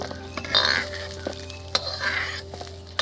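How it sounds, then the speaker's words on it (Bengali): Cashews frying in ghee make a soft, steady sizzle, with occasional clinks of a spoon stirring against the pan, close but low in level. "আর কাজুটা ভালো করে ভেজে নিতে হবে"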